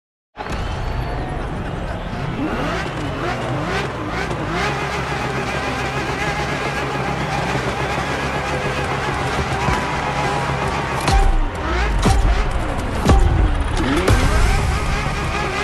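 A Ferrari F50 engine drones steadily while driving in the racing game The Crew Motorfest, its harmonics rising and falling through gear changes, loud and continuous over more than fifteen seconds.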